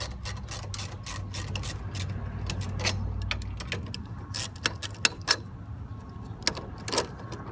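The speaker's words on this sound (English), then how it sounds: "So you use a 9/16 wrench, or socket rather, to undo the bolts from the trailer," Socket wrench working on bolts of a Laser Kitty Hawk trailer, with a low rumble at first, then sharp metallic clicks and taps scattered irregularly, close and fairly quiet.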